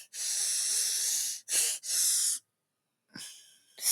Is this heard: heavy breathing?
yes